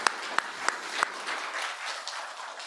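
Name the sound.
conference audience applause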